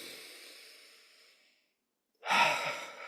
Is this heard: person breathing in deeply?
yes